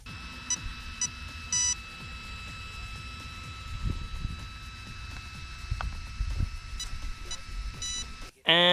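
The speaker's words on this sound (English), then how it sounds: "the ESC was giving me a tone" An electronic speed controller in an off-road RC dirt drag truck emits short warning beeps in brief repeated bursts, heard faintly over a low background rumble, followed by a louder burst at the end.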